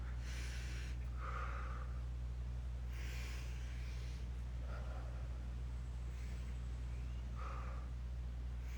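Heavy, deliberate breaths during a mouth fascia release done with fingers in the mouth, a few slow exhaled puffs and snorts spaced seconds apart over a low steady hum, faint and close.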